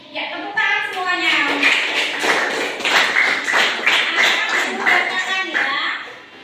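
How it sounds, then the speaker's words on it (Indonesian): A school class claps hands together in a classroom, a run of loose, uneven claps mixed with children's voices and chatter throughout. "Ya, tepuk tangan semuanya."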